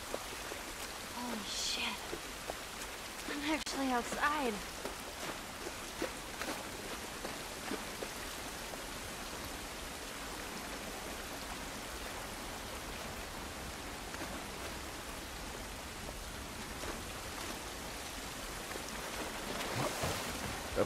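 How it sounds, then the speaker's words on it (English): Steady heavy rainfall in the video game The Last of Us hisses throughout, a dense wash of noise, with a few brief voices and scattered sounds cutting in over it. "This rain ain't gonna do us any good."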